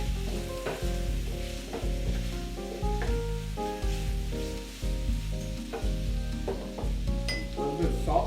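Potatoes, red bell peppers, onions and garlic sizzle steadily in a pan as they are stirred, with tonal music playing throughout and no talking.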